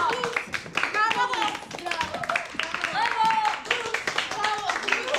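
Applause in a film scene, with steady clapping from a group running under several overlapping voices talking and calling out.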